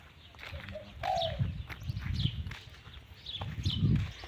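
A decoy bird calls loudly and repeatedly, sweeping whistled notes over a rumbling, noisy outdoor background with low thumps and no speech.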